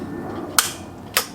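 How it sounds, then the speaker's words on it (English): Two crisp, sharp clicks from the igniter of a curbside-found propane heater whose pilot light won't stay lit, about half a second apart, close and loud against a faint background hiss. "I want to click the igniter"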